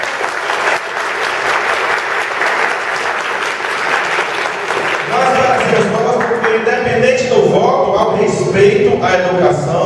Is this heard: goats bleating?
no